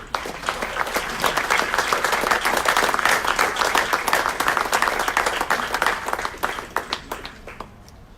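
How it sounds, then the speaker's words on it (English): A city council meeting audience breaks into applause for Ward 2: steady, dense clapping from a sizable group holds for several seconds, then thins and fades near the close. "Big round of applause to Ward number 2."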